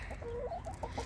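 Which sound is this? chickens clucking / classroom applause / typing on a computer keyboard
chickens clucking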